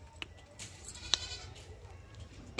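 Goats grazing in a rural village give a few short, faint bleats at a distance over a low background rumble, with sparse clicks between calls.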